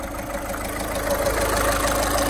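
The diesel engine of a 2013 Volkswagen Vento Highline idles at a steady, even, close-up clatter with a faint tonal hum, and nobody talks.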